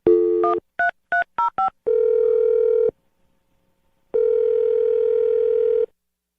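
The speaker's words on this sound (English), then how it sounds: "we're going to dial the phone number right now" A telephone number is dialed: a quick run of seven short touch-tone beeps, then two long steady ringback tones separated by silence, clear and close.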